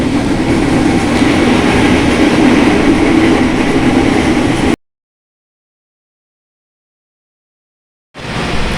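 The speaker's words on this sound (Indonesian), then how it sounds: "aku mau mengajak kalian naik KRL dari stasiun Lempuyangan menuju stasiun Purwosari" KRL commuter train running from Lempuyangan to Purwosari, a loud, steady rumble of wheels and carriage noise heard from onboard, cut by a few seconds of total silence before the rumble resumes.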